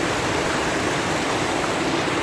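A waterfall pours over slump blocks in a quiet area near Cedarville, making a steady, loud, close rush of falling water that holds constant from start to finish, with no voices.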